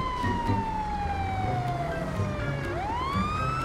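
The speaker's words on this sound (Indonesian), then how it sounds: "Oke ambulan datang coy." Siren of an arriving ambulance in the video game GTA 5, a loud steady wail that slides down in pitch, then sweeps sharply back up, with engine rumble and street noise beneath.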